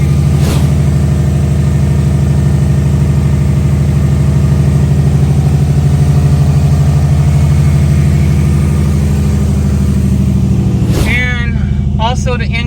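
Subaru WRX bugeye engine idling roughly with an idle fault, a loud, steady low rumble close by that runs for about eleven seconds before cutting off abruptly.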